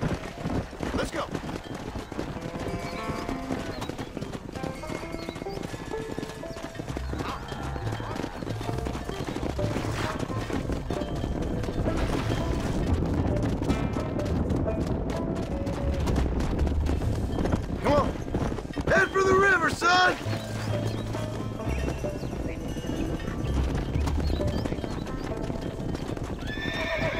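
Horse hooves clip-clop and gallop in rapid rhythm in the Red Dead Redemption video game, with a whinny, scattered gunfire, background music and voices talking over them.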